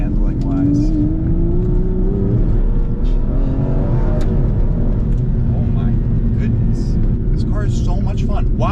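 An Aston Martin V12 Vantage S engine revs and pulls hard while driving, loud and close, its pitch climbing and dropping through the run.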